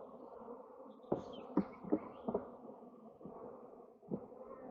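Bees buzz steadily at a beehive, a close, continuous drone broken by a few sharp knocks and bumps.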